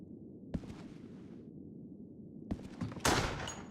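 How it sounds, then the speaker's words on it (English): Gunshots in the horror video game The House of the Misled: Scarlet Dawn: two sharp reports a couple of seconds apart over a low rumbling ambience, followed by a louder burst of gunfire. "I'm sure they won't hear the gunshots outside."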